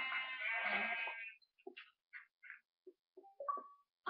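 A sheep bleats in the Minecraft video game, one long wavering bleat followed by short scattered blocky game sounds against silence.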